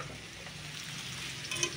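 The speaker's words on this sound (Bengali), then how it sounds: "তেলটা ছাড়ার পরে এখন আমি মাছগুলোকে দেবো" Fish frying in hot oil in a pan, a brief, soft steady sizzle with faint stirring, close but quiet, with no talking.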